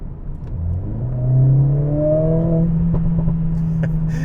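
A Mercedes CLA45 with an aftermarket exhaust slows down on the road, its engine droning loudly and close with a rising tone, followed by a few sharp crackles and pops from the exhaust as it decelerates.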